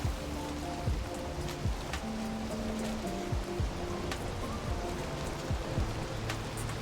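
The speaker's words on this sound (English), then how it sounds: "And now it's raining." Rain falling in the video game Valheim, a steady patter of drops with scattered small plinks and soft tonal game sounds beneath, moderately loud and without speech.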